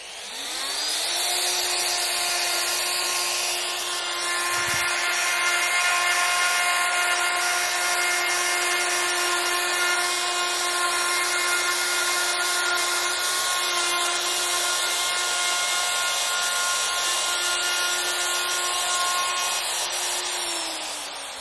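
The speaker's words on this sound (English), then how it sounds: "Now I'll carry out the second milling groove a little deeper." A Festool router milling a deeper groove in a wooden kitchen worktop: the motor spins up, then holds a loud, steady high whine with a constant buzzing cut for about twenty seconds before winding down.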